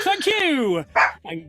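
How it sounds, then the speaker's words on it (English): A dog barks a couple of times close by, with a short whimpering yip after, and a voice speaks over and around it. "That's my dog."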